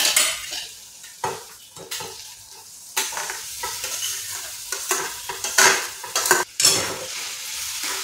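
Mashed eggplant stirred into fried onion-tomato masala in a pan, repeated scraping and clanking spatula strokes over a soft sizzle, close and uneven in rhythm, with no talking.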